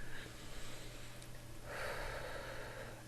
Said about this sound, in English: So you start breathing in through your nose,